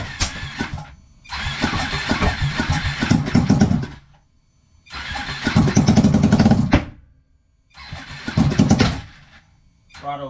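A Ducati 1199 superbike engine swapped into a Honda Grom, run on a FuelTech ECU, fires up for the first time, with loud bursts of cranking and revving separated by brief pauses.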